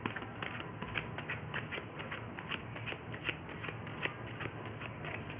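Tarot cards being shuffled by hand, a steady run of quick soft riffling clicks and papery flutters, close and fairly quiet, with no speech over it.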